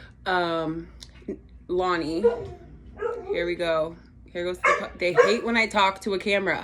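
A puppy barks and yips repeatedly in the background while someone talks over it, the short barks scattered through her speech.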